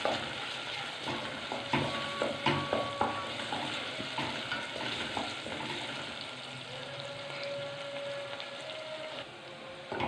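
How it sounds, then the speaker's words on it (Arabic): Onion with a little salt sautéing in a pan, a steady close sizzle broken by repeated scraping stirs of a utensil, with a short tonal squeak partway through. "هحط شويه ملح صغيرين عشان تدبل البصله، واقلب كده في البصله"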